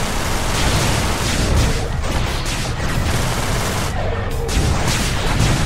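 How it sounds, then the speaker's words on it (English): Missiles fire during space combat in the game Everspace: a loud, dense, continuous barrage of launches and blasts with rolling explosive booms, sustained for several seconds without a break. "Alright, fire some missiles."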